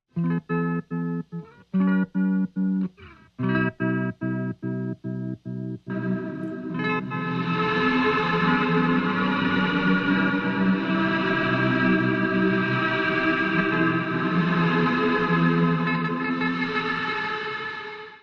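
An electric guitar through a tremolo pedal chugs in sharply pulsing, chopped chords for several seconds, then swells into a sustained, wide, effect-washed chord that rings on.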